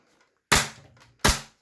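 A hammer-operated toy blaster cap gun fires two sharp, loud snaps about three quarters of a second apart, each followed by a short rattling tail, with near silence before the first shot.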